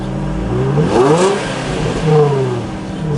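A Nissan 350Z on its stock exhaust revs twice in quick succession, each blip rising and falling smoothly over a steady idle, moderately loud and fairly tame in tone.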